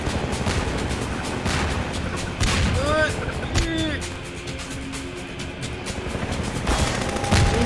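Gunfire during a helicopter chase in the video game Half-Life 2, dense bursts of shots and impacts over a constant roaring drone, with music-like tones and a voice talking briefly.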